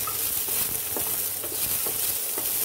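Onion frying in a pan with garlic, ginger and chili, a steady close sizzle with soft stirring taps.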